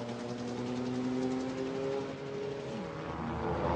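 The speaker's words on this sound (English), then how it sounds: "A Toyota in trouble. Limping in with a puncture in the tyre." A Toyota race car at Le Mans in 1998, limping along on a punctured tyre, drones with a steady engine note that drops in pitch partway through as it passes, with no talk.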